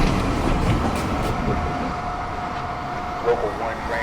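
An NYC subway 1 train rolls into a Manhattan station with a loud, steady rumble of wheels and rail that fills the whole stretch, while a voice speaks over the noise.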